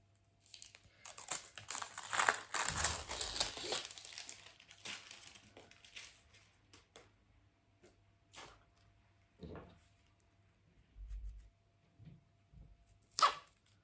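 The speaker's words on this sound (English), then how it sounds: "So remove the cellophane and the paper." Cellophane and paper wrapping being pulled off a diamond painting kit, with close crinkling and rustling in bursts, followed by quieter scattered handling taps and thumps.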